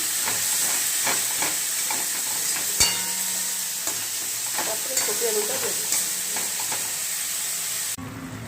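Spice paste with turmeric and salt stir-fried in a pan for fish kalia, a steady loud sizzle with intermittent scraping stir strokes throughout.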